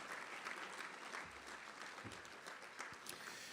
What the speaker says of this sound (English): How about a big round of applause for all of our incredible sponsors and donors?